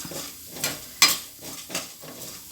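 Urad dal dry roasting in a pan for chutney at medium heat, with a soft crackle and rhythmic scraping stirs roughly every half second, one sharper metallic clink in the middle, no voices.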